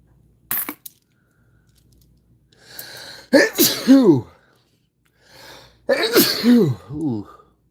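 Two sharp sneezes burst out close up, each preceded by a short inhaled gasp, after an earlier clink like a dropped coin; no talk accompanies them.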